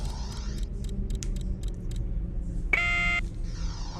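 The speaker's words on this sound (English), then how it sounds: "I hate it when it does that beep." A warning beep from the space game X3 sounds once, a short bright electronic tone lasting about half a second, over a low rumbling engine hum and some faint blips.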